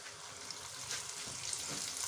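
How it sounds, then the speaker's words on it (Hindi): Marinated chicken wings for crispy lollipop wings fry in oil with a soft, continuous bubbling sizzle, faint and steady throughout the brief moment. "थोड़ा सा झाड़ के तो ऑयल के अंदर शामिल करेंगे।"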